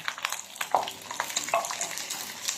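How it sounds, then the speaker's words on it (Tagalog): Mushrooms hit light-brown garlic frying in a pan for beef salpicao, a continuous close sizzle with stirring scrapes and small crackling pops throughout. "Pag naging ganyan na po yung kanyang garlic, nag-light brown na po, ilagay niyo po yung mushroom."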